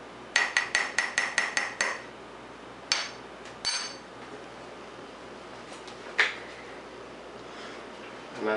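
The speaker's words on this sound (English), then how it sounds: "Give that a quick stir." A spoon stirs foamy machine-made coffee in a cup, making a quick run of bright, rhythmic clinks, followed by a few scattered single taps against the rim in an otherwise quiet room.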